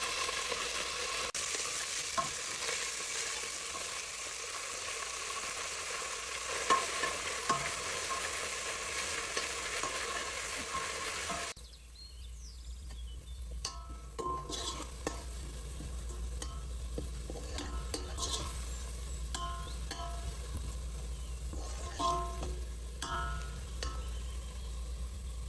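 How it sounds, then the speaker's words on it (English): A large thinly sliced onion frying in hot oil for masala liver, first a dense, loud sizzle, then a quieter, sparser crackle with occasional stirring scrapes. "Once the oil is hot, I've added 1 large onion, thinly sliced. We'll fry this until it turns light golden brown."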